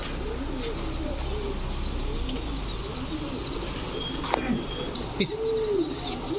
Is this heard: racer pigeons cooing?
yes